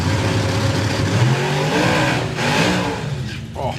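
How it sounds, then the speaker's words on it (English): A drag racing car at the start line roars loudly, its engine note rising and surging steadily for a few seconds as the tyres blaze. "Oh, blazes the tyres,"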